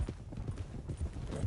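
Horses' hooves clip-clop steadily along a trail in Red Dead Redemption 2, a quick, even rhythm of soft thuds close by with no talking.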